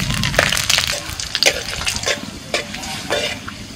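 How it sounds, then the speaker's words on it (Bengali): Whole spices, including nutmeg, mace, bay leaf and cloves, hit hot mustard oil for mutton rogan josh, producing a loud continuous sizzle with scattered crackles and pops close by. "এবার আমি ফোড়নগুলো দিয়ে দিচ্ছি।"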